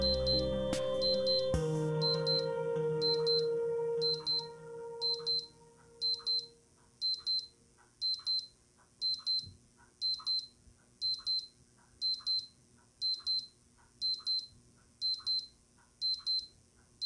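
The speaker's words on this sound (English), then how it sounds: "So you notice there's a 20 second alarm, and the little alarm icon flashes in the top left corner when it's going off." A Casio Data Bank DB-33W digital watch alarm beeps in evenly spaced, thin, high bursts of rapid chirps, repeating about once a second, faint and alone after some brief handling noise at the start.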